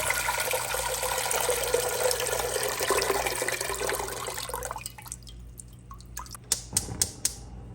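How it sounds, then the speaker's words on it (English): Water pours steadily into a cooking pot for about five seconds while mushroom soup is being made, then stops and leaves a few scattered clinks and taps. "First thing I do is pour my water into the pot."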